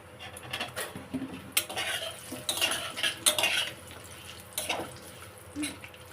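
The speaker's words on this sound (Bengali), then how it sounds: "তারপরে এই আলুগুলো দিয়ে দিলাম।" Potatoes tipped into a pan with whole cumin and whole chillies for a tilapia curry, then stirred: scraping utensil clatter and rustling sizzle in uneven bursts, close and fairly loud, with no talking.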